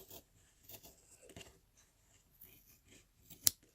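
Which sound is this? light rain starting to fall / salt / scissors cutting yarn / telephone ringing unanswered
scissors cutting yarn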